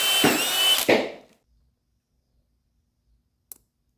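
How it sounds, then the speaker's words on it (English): Power drill boring holes into a copper penny, two short loud bursts of whirring and grinding close by, then silence with a faint click near the end. "I'm gonna go ahead and mark my 2 holes and then drill them"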